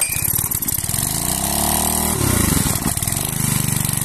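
A Robin EY08 small engine on a water pump fitted with a homemade booster is pulled into life, then settles into a steady, close, loud mechanical chug with a slightly shifting pitch, with no talking.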